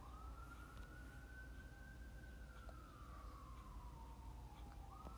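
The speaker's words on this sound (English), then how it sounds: "I left the window open. That's why it has horrible" A siren wails steadily from a distance outside an open window, its pitch slowly rising and falling, over a constant low traffic rumble.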